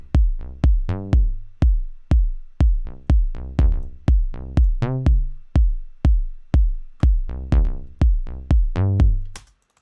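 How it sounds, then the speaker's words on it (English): Synthesized house bass from a sawtooth oscillator in Ableton Live, a loud repeating pattern of plucky notes with sharp attacks and quick decays, playing alone in a steady rhythm. "we start seeing that very kind of housey type bass"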